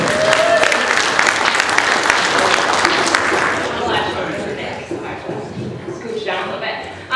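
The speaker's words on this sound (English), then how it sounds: "Let's give Annie a round of applause, everybody." A wedding reception crowd claps steadily and loudly for several seconds, then the applause thins out and fades, with voices chatting underneath.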